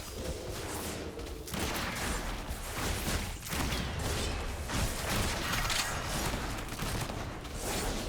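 Outlaw Rogue Ambush and Pistol Shot attacks in World of Warcraft Dragonflight, a dense, continuous barrage of game combat effects with gunshot-like bursts and clashing impacts, loud and layered throughout.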